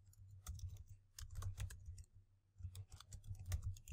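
Fingers type on a computer keyboard in two quick bursts of soft, close key clicks separated by a short pause, with no talking.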